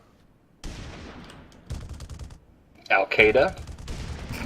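Mortar fire in a video game battle comes as a rapid burst of booming explosions and gunfire in overlapping volleys, with a shout heard over the combat.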